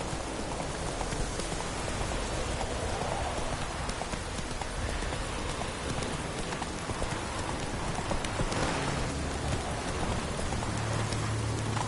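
Rapid rhythmic hoofbeats of a horse galloping through rain in The Witcher 3, the clip-clop running steadily under a constant patter of rainfall throughout.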